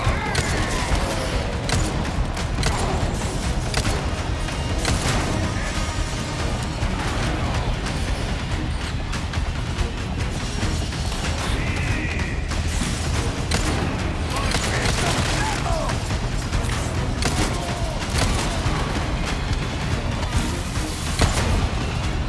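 Gunfire rattles through Resident Evil 4 Remake in chapter 11 on hardcore difficulty, with a chainsaw enemy nearby. Dense bursts of shots and booms run throughout, loud and continuous, while a person talks over the action.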